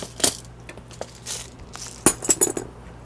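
Pearl and glass beads are handled close up, giving scattered bright clicks and rattles: a sharp clink early, then a quick cluster of tinkling hits later, with no talking.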